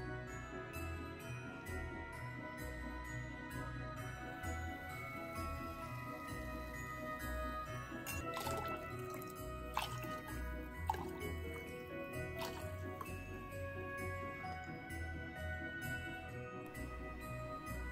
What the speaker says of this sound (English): To our glass, we'll add 4 ounces of tonic water.